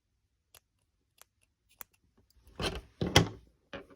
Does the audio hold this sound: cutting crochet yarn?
yes